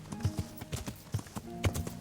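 Horse hooves clip-clop in the medieval open-world game Kingdom Come: Deliverance, an irregular run of dull thuds like a horse walking slowly on a trail, up close, with no talking.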